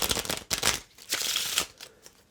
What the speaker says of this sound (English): if I have to give the deck a shuffle